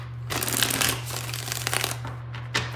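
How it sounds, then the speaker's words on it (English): Tarot cards are shuffled close by in a continuous riffling patter with a few sharper slaps, over a steady low hum. "Two more shuffles."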